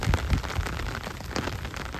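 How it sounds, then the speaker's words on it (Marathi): Rain falls steadily over a farm field, a dense, even patter of drops pattering on surfaces nearby, alone with no voices. "पाऊस बघा किती पडते"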